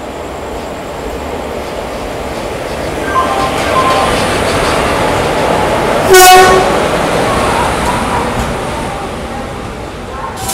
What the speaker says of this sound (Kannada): ಇದು Hosapete platform number 1ನಲ್ಲಿ Guntakal Hubballi special passenger train arrive ಆಗ್ತಿದೆ